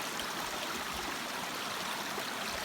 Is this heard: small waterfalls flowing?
yes